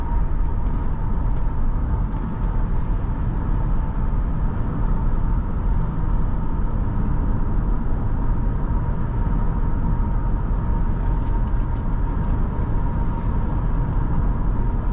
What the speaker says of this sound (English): That V8 in this car sounds fantastic.